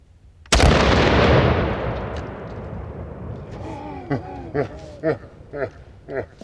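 A Mossberg HS12 tactical over-under shotgun fires one loud, sharp blast that rolls away into a long echo, and then a person talks.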